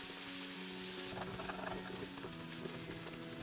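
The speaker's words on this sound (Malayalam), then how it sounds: "ഇനി ഇത് 1 മിനിറ്റ് നേരം ഇളക്കി കൊടുക്കുക." About 75 grams of ground garlic paste frying in oil in a pan for Ambur chicken biryani while being stirred: a steady, dense sizzle with faint spoon scrapes underneath, constant and close.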